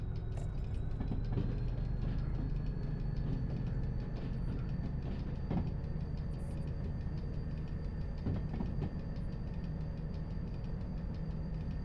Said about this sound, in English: This is not a bad of a diesel loco. It's actually a really useful diesel.